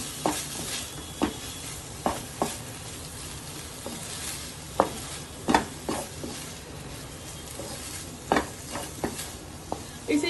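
Paneer is stirred into a cooked masala in a pan for village-style paneer bhurji: a soft, continuous sizzle broken by irregular spoon clacks and scrapes against the pan, close and alone.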